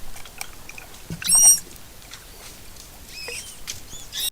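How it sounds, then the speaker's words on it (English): Manatee mother and calf vocalizing underwater: short high squeaks and chirps, a louder squeal cluster early, then scattered fainter calls over a quiet hissy background. "most of the sounds that we've recorded have been when mom manatees and their baby manatees are talking to each other"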